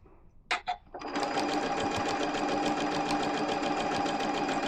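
An embroidery sewing machine stitching a churn dash quilt block: after a couple of brief knocks it starts up into a steady, fast mechanical whirring and rattling that runs on continuously, close and even.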